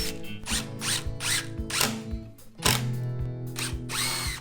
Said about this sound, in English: Screw from the backside.